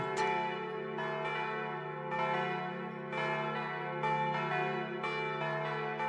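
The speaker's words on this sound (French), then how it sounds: "Alors le son de la cloche" A monastery church bell at the Poor Clares convent in Ronchamp rings steadily with repeated strikes, each ringing out into a rich, sustained hum; loud and resonant, with no voices.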